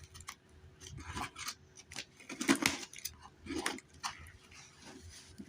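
Toy packaging being cut open by hand: a series of close, quiet snips and scraping rustles arrives in short irregular bursts, soft and intimate with no voice over it.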